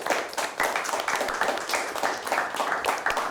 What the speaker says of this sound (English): Let's give both teams a nice round of applause.